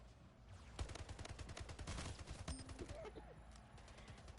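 Auto rifles in a video game fire in rapid, sustained bursts, a dense chattering rattle of overlapping shots with sharp cracks, continuing almost without pause across the few seconds.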